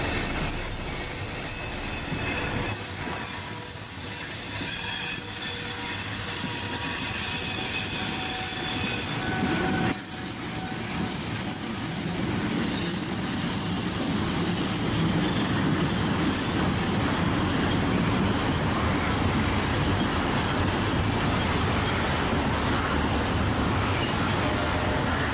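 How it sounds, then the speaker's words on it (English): HO scale model train sound of three EMD diesel locomotives rolling steadily downgrade under heavy dynamic braking, a sustained roaring drone with metallic wheel squeal and rumble running continuously throughout. "the three EMDs are in full dynamics as they take this train down the grade"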